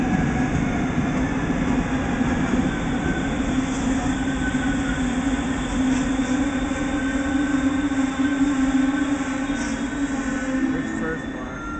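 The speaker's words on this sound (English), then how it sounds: "This is the train station. There's one coming in right here." A double-decker train pulls into an Amsterdam station with a steady, loud rumble and rolling wheel noise that holds throughout, a faint squeal riding above, while people talk nearby.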